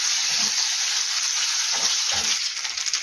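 Grated potato pancakes fry in a hot pan, giving a steady, close hissing sizzle with a few soft bumps and stirring sounds, and no one speaking.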